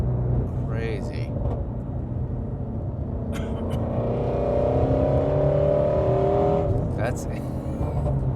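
A Ferrari F40 sports car engine roars as it pulls hard through the gears, a loud steady rising drone with a climbing pitch, and a voice talks over it.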